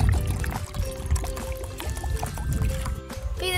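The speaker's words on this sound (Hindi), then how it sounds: "अब इस कटोरे में पानी डालो," Water is poured into a bowl for a homemade compass experiment. The continuous splashing pour fills the short clip, set against a fairly loud, busy background.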